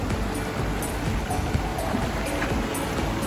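Water rushing and churning during monsoon rain in Coorg, a dense, continuous splashing roar without pause.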